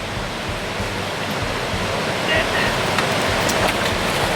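A small trout stream in the Poconos, Pennsylvania, rushes steadily and fairly loud as a constant broadband wash of flowing water, with no clear pauses.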